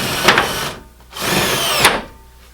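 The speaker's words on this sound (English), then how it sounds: "I got to put all the screws in now to make sure that this shelf is fastened down good" A power drill driving screws into shelf brackets: two bursts of whirring motor, each lasting around a second with a brief pause between, close and loud, with no talking.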